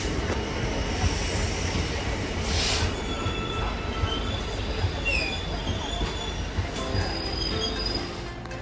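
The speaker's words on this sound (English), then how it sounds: "Next we have 66107 in the DP cargo livery, hauling a stone train" Class 66 locomotive 66107 in DP cargo livery hauling a stone train at Bristol Parkway, a loud, steady rumble of passing wagons with squealing wheels and clattering throughout, no talk.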